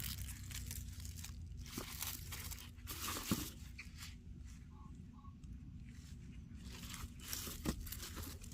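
Hongsan seed garlic bulbs rustle and crinkle as they are handled and packed, their dry papery skins giving soft scrapes and crunches with a few sharper knocks.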